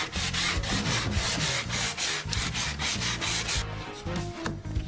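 Rhythmic back-and-forth sanding on the edge of a tongue-and-groove pine shelf, close and steady, with a brief change in stroke near the end and no talking.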